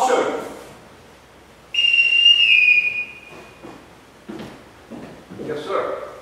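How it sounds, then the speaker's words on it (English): A sharp, shrill whistle is blown in a house to summon the household, one sustained piercing tone lasting about a second, with voices speaking before and after it. "Everyone in this house answers to a whistle."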